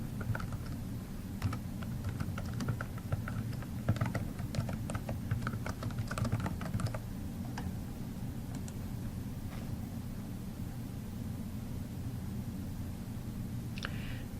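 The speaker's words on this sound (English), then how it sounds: "Let's type our first concept in." Someone types on a computer keyboard, producing fast, close key clicks that are dense for several seconds and then thin to a few isolated taps over quiet room tone.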